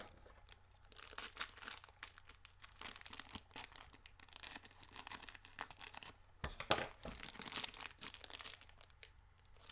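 A plastic bag of Pinkerton gold mine bubblegum is cut and pulled open, giving faint, close crinkling and tearing rustles in uneven bursts.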